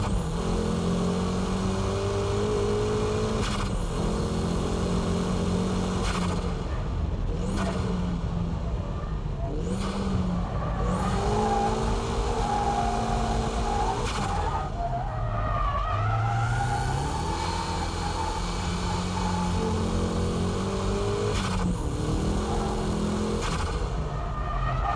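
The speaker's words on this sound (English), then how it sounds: "Here I'm power drifting at the exit." A car power drifts with sustained tire skidding and squeal over a loud, continuously revving engine, with shifting pitch as the throttle rises and falls, close and unbroken throughout.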